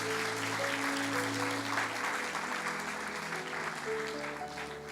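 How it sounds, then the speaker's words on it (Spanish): A church congregation applauds people who have just made a faith decision during a sermon, a dense, sustained round of clapping from a large crowd that fades slightly toward the end over a faint sustained keyboard tone. "denle un aplauso a estas personas que han tomado esta decisión."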